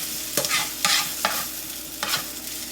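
Vegetables sautéing in a pan, a steady sizzle with several distinct scraping stirs of a utensil, close and fairly loud, no voices.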